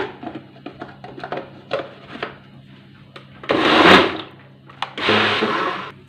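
A blender mixing orange and lemon juice with water, preceded by scattered knocks and clicks, then two loud whirring bursts of about a second each, close and dominant, with no talking.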